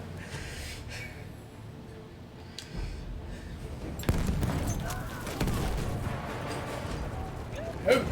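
Bursts of machine-gun fire in a video game, sharp repeated shots and broadband crackle that intensify after the midpoint, with game sound effects and scattered voice sounds mixed in.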